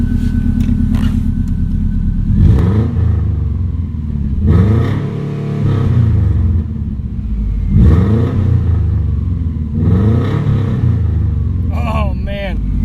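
A Subaru Baja fitted with unequal-length headers and only a catalytic converter for exhaust revs up in four rising throttle blips separated by a steady idle burble, loud and close.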